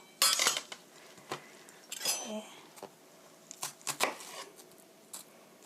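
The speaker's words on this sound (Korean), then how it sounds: "이렇게 어니언 양파는 하프 반 자르시고요." A knife slices an onion in half, giving a handful of sharp, close clicks and taps on the board with brief scraping between them and quiet pauses in between.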